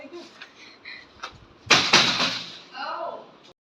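Loud banging on a home's front door, a cluster of heavy thumps in the middle with people talking before and after.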